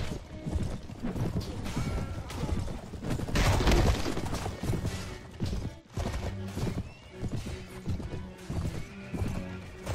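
A wounded horse in the video game Mount & Blade: Warband neighs and whinnies over continuous galloping hoofbeats, loud and close, mixed with battle clashes and impacts.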